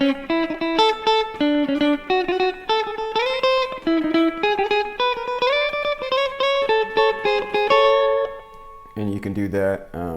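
Rockabilly electric guitar picks a simple chord-tone pattern over a repeating chord progression: a steady run of clear, ringing single notes that climb and shift with each chord, close and bright, ending with a brief different sound.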